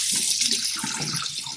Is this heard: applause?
no